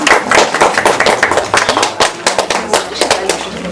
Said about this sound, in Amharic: ለወይዘሮ ትዕግስት ሞቅ ያለ ጭብጨባ